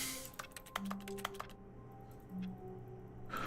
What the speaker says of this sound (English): if I click anywhere else, it sounds like I'm clacking the keyboard